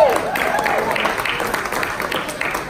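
An audience applauds at a Monday night big band show, a brief burst of clapping that fades slightly, with a voice briefly over it.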